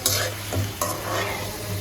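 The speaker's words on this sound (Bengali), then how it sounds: "এই যে দেখেন কি সুন্দর করে মশলা করে ভাজলাম" Spiced potatoes fry in a pan with a close, steady sizzle, and a spatula stirs them in a few brief scraping bursts. No one speaks.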